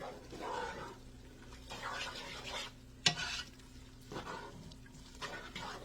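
Chili spices (paprika, cayenne, onion powder, chili powder, cumin, pepper, salt and sugar) being stirred in a cooking pot, giving repeated scraping stirs over a soft sizzle, with one sharp clink of the spoon partway through.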